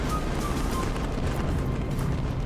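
Continuous rumbling boom of cannon and mortar fire from naval ships, a floating mortar battery and cannon on Copp's Hill at the Battle of Bunker Hill, a dense, steady low roar with no clear separate blasts.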